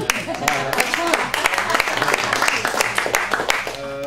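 An audience gives a soft, polite round of golf-style clapping, a steady patter of many hands that holds at an even level for a few seconds without cheering.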